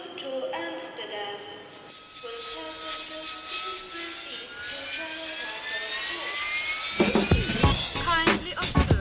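British European Airways Vickers Viscount airliner departing, a rising turbine whine with tonal engine harmonics that climbs steadily, growing louder toward the end with a rough roar as it powers away, over faint background voices.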